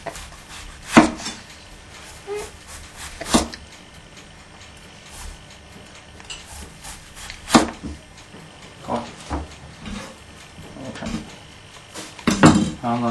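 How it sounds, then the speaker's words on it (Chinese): A knife slicing tomatoes on a cutting board for a BLT sandwich, a handful of separate sharp knocks spaced irregularly, with softer handling noises between them. "西红柿呢，把根切下去，然后切成片"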